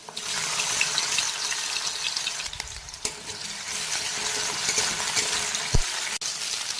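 Chopped green chillies, ginger and garlic fry in hot oil in a kadai for veg chowmein, giving a steady hiss with a few clinks and scrapes from stirring.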